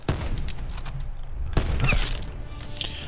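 Gunfire from an unsilenced gun in the shooter game Black Ops 4, a sharp report at the start and another burst partway through over a constant busy game din, with no talking.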